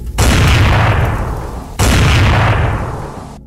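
Two loud, close gunshots fired in quick succession, each a sharp crack followed by a long rumbling echo that slowly fades, with no other sound.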